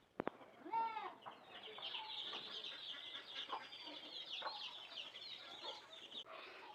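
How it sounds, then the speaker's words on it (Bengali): Two broody hens on a small farm clucking, with scattered fowl calls and chatter rising over continuous background noise. One brief harmonic call stands out early, and the sounds carry on steadily at a moderate, fairly near level. "আর এই যে এখানে আছে দুইটা মুরগি"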